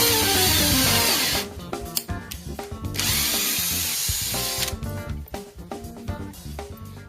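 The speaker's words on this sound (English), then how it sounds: "After you pre-drill the holes, run the screws in and back out again." A power drill drives screws into wood in several strong bursts, its motor pitch rising and dropping as it starts and stops, close and loud.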